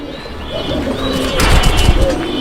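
Soft cooing from a male and female pigeon pair over a murmuring background, growing a little busier and louder in the second half.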